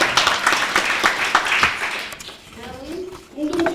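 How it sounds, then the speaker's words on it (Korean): Symposium audience on carbon emission reduction clapping in a hall, a dense burst of applause that fades after about two seconds, then a voice speaks. "다시 한번 수고해주신 박사님께 응원의 박수 부탁드립니다"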